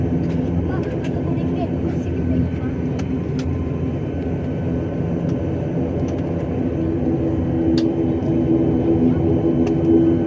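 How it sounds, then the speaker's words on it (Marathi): Low, steady engine roar of an airplane taking off in the distance, rumbling continuously while a person speaks nearby. "ते बघ आता वरती जाते प्लेन"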